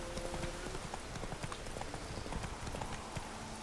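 Horse hooves clip-clopping in The Witcher 3, a steady run of close, crisp hoofbeats over a constant game background, with no voices.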